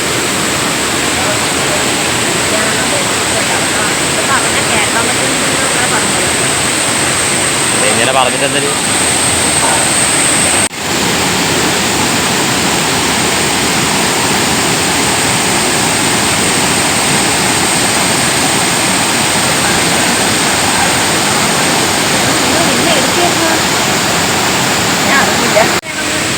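Steady broadband roar of the Meenmutty waterfall pours continuously throughout, loud and close, with a few brief voices speaking over the rushing water.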